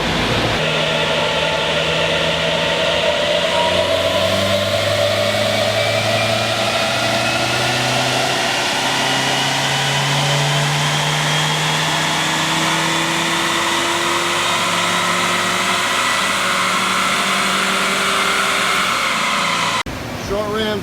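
Nissan Juke engine fitted with a short ram intake revving on a dyno, a loud sustained pull with the engine note climbing steadily through the run before cutting off at the end.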